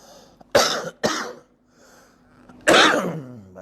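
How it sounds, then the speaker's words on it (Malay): Several harsh coughs from a lecturer teaching on hadith, two quick bursts followed by a pause and a heavier cough, loud and close with no words spoken. "batuk dah menyerang"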